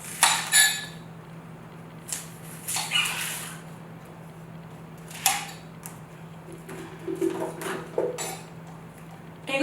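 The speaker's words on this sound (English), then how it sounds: "Cut my onions." Onions are chopped in a Ninja food chopper, giving several short bursts of whirring, rattling and clinking separated by quiet pauses, close and moderately loud.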